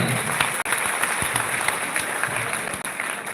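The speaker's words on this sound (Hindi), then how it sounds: "एक बार जोरदार तालियां सभी के लिए भाई" Audience applause at a live motivational gathering in India, a dense, even wash of many hands clapping continuously and fairly faintly, heard somewhat distant with a muffled roomy quality.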